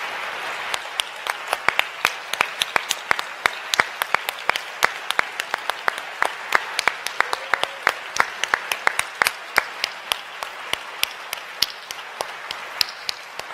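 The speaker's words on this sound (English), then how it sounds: "Could you please stand so we can give you a round of applause?" A crowd at a global forum applauds standing students, a sustained, fairly close round of dense clapping that stays steady for over ten seconds with sharp individual claps popping out.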